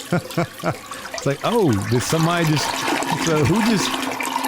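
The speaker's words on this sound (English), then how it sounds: "Flushing all their shit down the toilet." A household toilet flushing, with a rushing, gurgling water sound that fills most of the clip and runs under animated voices speaking over it, one voice rising in a drawn-out exclamation.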